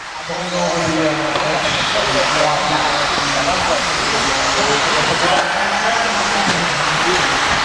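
RC cars racing around a local track during a four-wheel drive round, a steady continuous whine of electric motors filling the clip at a constant level, with people talking faintly underneath.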